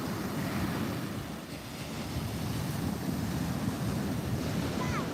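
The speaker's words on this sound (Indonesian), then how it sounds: "beginilah suasana pagi di pantai Muaro Bayang" Sea waves wash onto Muaro Bayang beach on a morning, a steady broadband rush of surf blended with wind buffeting the microphone, continuous and moderately loud with no talk.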